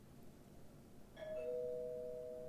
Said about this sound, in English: doorbell just went